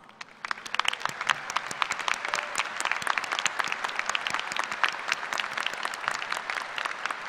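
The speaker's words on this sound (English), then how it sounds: "round of applause." Sustained applause from a large audience at the Kansas State University graduate school commencement ceremony, spring 2016: dense, even clapping that fills the whole stretch at steady strength, with no voices over it.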